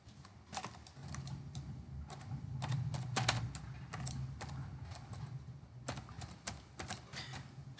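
A name is entered on a computer keyboard as quiet, close keystrokes in short irregular clusters, with a low hum of room noise underneath between the bursts of clicks.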